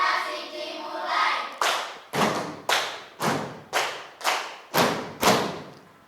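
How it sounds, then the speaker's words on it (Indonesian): A classroom of pupils performs a rhythmic group clapping routine used to focus attention, with a murmur of voices at first, then about eight loud, evenly spaced unison claps, each with a short ringing tail. "Tepuk konsentrasi."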